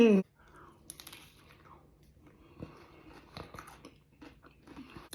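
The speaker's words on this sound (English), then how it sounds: "Do you hear that crunch?" Crisp, irregular crunching bites from someone eating salmon chips up close, scattered bursts over soft chewing, with a brief voice at the very start.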